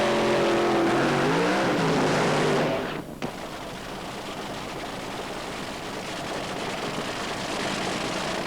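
Top fuel dragster engines at Hockenheim drag racing, with a loud, dense roar that rises in pitch, then drops and continues as a steady distant rush.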